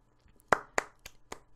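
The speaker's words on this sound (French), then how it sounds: "Ils ont tous applaudi." Five sparse, evenly spaced claps ring out faintly, like a small, thin round of applause, from the video game Eldarya.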